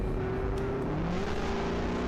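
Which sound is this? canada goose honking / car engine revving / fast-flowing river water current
car engine revving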